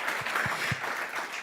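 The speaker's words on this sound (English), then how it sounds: "Huge applause to her." Audience applause at a conference main stage, a brief burst of steady clapping from a crowd with a few low thumps, filling the space evenly.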